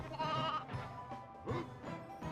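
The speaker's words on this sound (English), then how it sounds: "Got the sheep!" Sheep bleat in the Toy Story 2 PlayStation video game: several short, wavering bleats come one after another, close and clear over faint game background sound.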